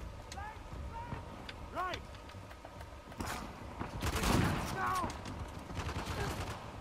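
Shotgun blasts in Uncharted: The Lost Legacy, several booming shots at irregular intervals mixed with other game gunfire and effects, a voice talking over parts of it.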